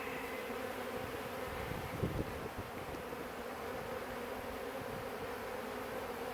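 Honeybees buzz around an opened hive during a split, a faint, continuous hum with light wind noise and a brief soft knock partway through.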